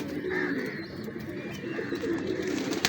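Pure Zagchine pigeons coo softly and close by, a few low rolling coos over faint background noise.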